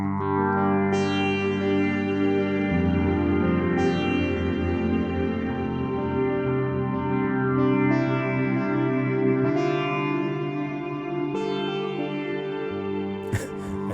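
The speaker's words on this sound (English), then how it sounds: "okay, add the reverb in." An electric guitar through a MegaMagic sitar effect plays sustained, sitar-like chords drenched in reverb and echo, with notes ringing and trailing into one another throughout.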